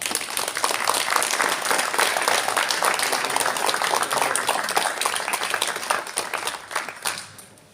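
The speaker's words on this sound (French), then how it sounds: "Je crois qu'on peut les applaudir." An audience at a municipal council meeting in St Pair-sur-Mer applauds continuously, dense clapping holding strong before tapering off at the end.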